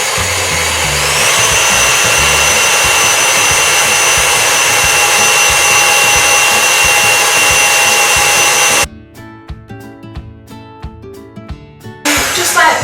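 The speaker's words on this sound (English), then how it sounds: "that is the starting point to start whipping my egg whites into meringue" Electric mixer whipping egg whites into Italian meringue, a loud continuous high-pitched motor whine that cuts off abruptly near the end, leaving faint clicks before the motor starts again.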